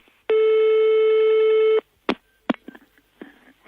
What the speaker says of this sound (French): Mon téléphone.